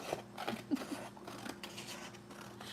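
Large scissors cut paper in a few quiet snips close up, with soft rustling and handling noises between the cuts.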